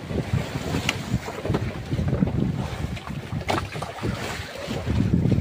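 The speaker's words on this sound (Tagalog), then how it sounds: "sobrang lakas ng hangin" Strong wind gusts at the water's edge, roaring and buffeting the microphone continuously, with a faint wash of water underneath and no voices.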